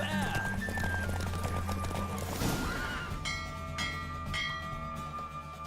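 A horse gallops in The Witcher 3 with rapid hoofbeats under a whinny and swelling game music, while voices talk over it.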